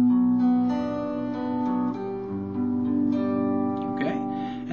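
Guitar plays a short picked passage from a song, with sustained notes ringing over each other for a few seconds, close and clear with no talking.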